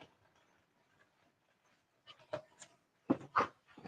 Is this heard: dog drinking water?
yes